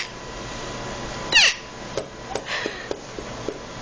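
A toddler imitates a cat's meow once, a short high vocal squeal in a quiet room, followed by a few faint small noises.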